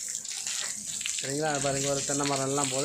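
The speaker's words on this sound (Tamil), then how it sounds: "இங்கே பார்த்தீங்கன்னா பைப்லேருந்து ஊற்றோம், ஃபால்ஸ்லேருந்து ஊற்றோம்" Water gushes steadily from a pipe in a garden with coconut and guava trees, a continuous close rush while someone talks over it.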